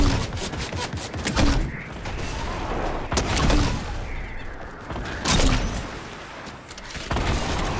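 Video game gunfire during a multiplayer match, several loud bursts of shots and booms hitting in clusters, close and heavy, with little else around them.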